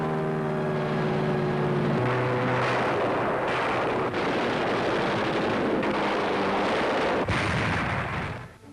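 Wartime aerial and naval bombardment before the Philippine landings roars without pause, dense with artillery blasts and aircraft drone under a loud, continuous wash of noise, with a fading tone at the start and no voices.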